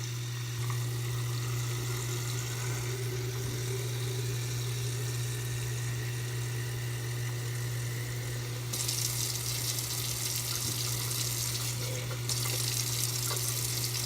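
Water pours steadily into a large kava jar holding AluBalls, a continuous splashing rush that runs alone with no voices and brightens partway through.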